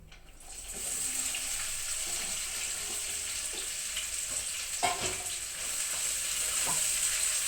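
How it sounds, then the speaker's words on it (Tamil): Onions frying in a pan for chicken curry, a steady hissing sizzle throughout with a few scraping stir sounds, no talking. "இப்போ வந்து வெங்காயம் நல்லா வதங்கணும்"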